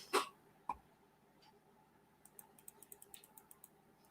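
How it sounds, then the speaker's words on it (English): A small dog gives a sharp cough, then a second shorter one, followed by a quick run of faint, rhythmic clicking sounds. "When she gets excited, she starts coughing."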